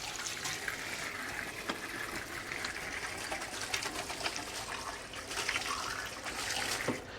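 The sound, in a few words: washing hands under running tap water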